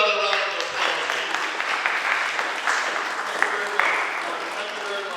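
Audience members at a diaspora talk programme give sustained applause, a thick, even patter of many hands clapping at moderate loudness for several seconds, with a few sharper claps standing out.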